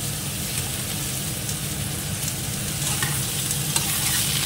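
Milky mushrooms frying in hot oil in a wok, a continuous close sizzle with soft crackling and occasional stirring scrapes, steady with no talking.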